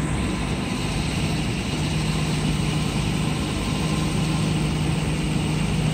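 Mercedes SL600 engine idling steadily with a constant tonal pulley whine riding over the broadband engine noise, loud and unchanging throughout with no talking.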